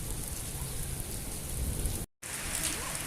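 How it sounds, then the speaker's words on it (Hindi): Heavy rain pours down in Makkah, Saudi Arabia, in a steady, dense hiss, close and loud, with a brief cut of silence partway through before the downpour resumes. "ये देखें, कितनी तेज़ बारिश हो रही है"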